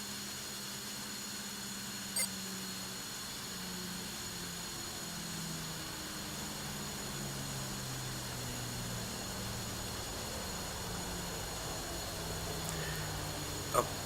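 An F-5E Tiger II jet engine spools up during a start in the DCS World flight simulator, a steady whining hum with low tonal drones that stays even throughout, plus two faint clicks.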